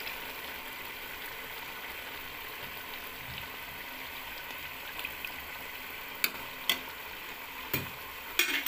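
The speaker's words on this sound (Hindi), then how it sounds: "और इसको अच्छी तरह भूनूंगा मैं तकरीबन 3-4 मिनट।" Goat head meat frying in oil gives a steady, even sizzle close by, with a few sharp clicks of a utensil near the end.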